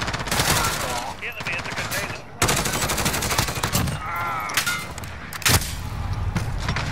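Rapid automatic gunfire in Call of Duty on the map Rust, with long bursts of fast shots broken by brief pauses, loud and close, along with metallic clangs and a voice speaking over part of it.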